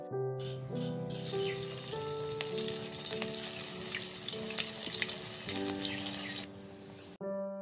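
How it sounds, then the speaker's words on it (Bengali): Baby corn dropped into hot white oil for a light fry, a loud dense sizzle that swells and holds for several seconds over steady background music, then cuts off. "এবার বেবিকর্নগুলোকে হালকা ফ্রাই করে নেব"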